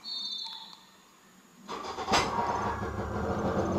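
A car or snowmobile engine cranks and catches after a short quiet stretch, then settles into a rough, loud idle close by with no talking.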